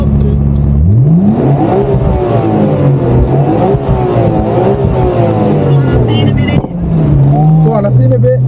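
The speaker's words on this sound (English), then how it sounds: "Tell him to rev it all." A Nissan Skyline R32's engine revs up sharply and holds a loud, close, rising and falling roar, with people talking over it throughout.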